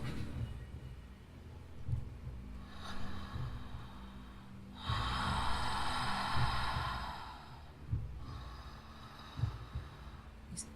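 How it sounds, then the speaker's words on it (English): Deep, breathy inhalations and exhalations through an open mouth, with a long rushing breath in the middle and softer ones around it, close to the mic. "long, deep breathing through an open mouth"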